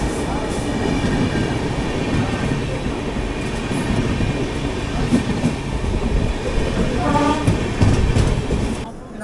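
The Poorva Express, running from Delhi to Kolkata, stands at Jhajha railway station, heard from a nearby train as a steady rumble and hiss with faint clanks, while a voice talks over it.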